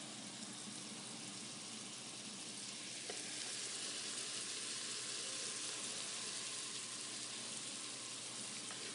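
Onions searing in butter and olive oil inside a pressure cooker make a steady, soft sizzle and crackle that runs unbroken at a moderate level.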